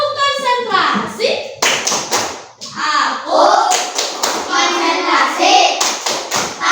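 Children perform a rhythmic concentration clapping game in a school, sharp claps and taps in patterned bursts mixed with children's voices chanting and speaking.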